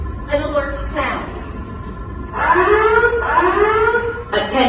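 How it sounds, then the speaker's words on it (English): A ship-wide alert aboard the Star Wars Galactic Starcruiser sounds in loud, repeated electronic tones, short bursts at first and then a longer pair of rising wails, with a voice faintly audible underneath. "in the event of an unexpected situation, there will be a light change, and you will hear an alert sound"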